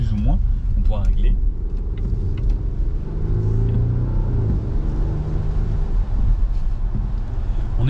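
A hybrid car's small engine stays discreet while driving, a low steady rumble under someone talking close by for most of the time.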